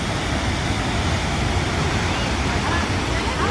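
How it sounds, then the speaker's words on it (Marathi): The Bhagirathi river flows near Gangotri in a steady, dense rushing roar of mountain water that fills the whole span evenly, close and loud, with no distinct breaks. "भागीरथी नदी"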